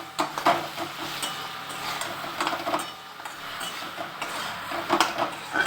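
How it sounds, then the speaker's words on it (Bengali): Vegetables with spice being stirred in a pan, a run of light scraping, clinking utensil taps and faint frying crackle, close and fairly quiet. "আবার এটা নাড়াচড়া করলাম একটু।"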